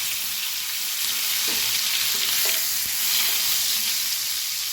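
Panch phoron and curry leaves sizzle in hot oil, a dense continuous hiss with faint pops and crackles, close and steady with no talk.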